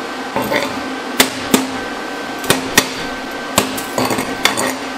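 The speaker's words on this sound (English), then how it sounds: "Love it when the slag pops off that easy." Sharp hammer-like chips and taps on a stick-welded butt joint as slag pops off, about seven distinct metallic strikes spread irregularly over a steady low background hum, close and fairly loud.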